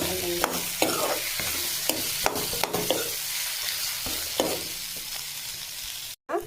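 Chunks of taro and tomato are stir-fried in a sizzling pan, with a spatula scraping and clacking in a loose repeating rhythm over continuous frying hiss, close up and without speech.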